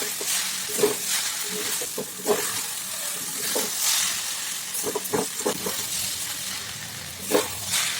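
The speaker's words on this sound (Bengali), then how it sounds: "বেশ খানিকক্ষণ ধরে আমি এটাকে ভাজা ভাজা করে নিচ্ছি।" Vegetable chowmein is stir-fried in a pan for several minutes, giving a steady loud sizzle with repeated scraping stirs throughout and no voices.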